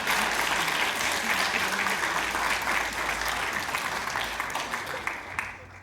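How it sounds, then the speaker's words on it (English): An audience applauding poet Sara Hussain, a full, continuous round of clapping from a crowd that stays strong before tapering off at the end. "Another round of applause,"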